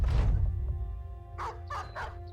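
Dog barks from the medieval tactics game Battle Brothers, three short sharp barks in quick succession after a low thud and background noise, moderately loud in the game's mix.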